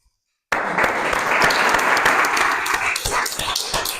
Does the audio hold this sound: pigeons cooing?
no